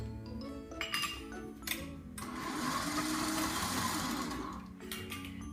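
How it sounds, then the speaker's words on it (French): An electric mixer beats eggs, one at a time, into creamy cake batter for a cranberry and white chocolate cake, a steady close whirring after a few clinks against the bowl, then stopping. "Maintenant, je vais ajouter les œufs un à un et je bats bien entre chaque."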